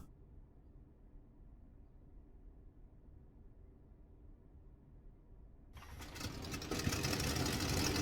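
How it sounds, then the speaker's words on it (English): A World War I aircraft engine starts up in the Rise of Flight flight simulator, a low steady rumble that rises into a louder, harsher roar partway through, heard alone. "Start the engine."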